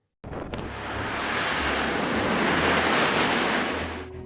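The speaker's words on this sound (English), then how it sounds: "C17 Globemaster III." A C-17 Globemaster III military transport aircraft roars loudly and steadily, a broad, sustained rush of engine noise that swells and holds for several seconds before easing slightly, with no voices.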